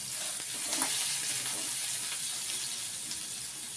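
Minced onion fries in a pan while a fish curry is cooked, producing a steady soft sizzle with light stirring sounds, fairly quiet and without any talking.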